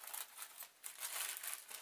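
Thin polythene plastic sheet crinkles and rustles steadily at close range for under two seconds, a continuous papery crackle with a brief lull midway, while scraps of cloth are trimmed for a homemade rice-filled juggling bean bag.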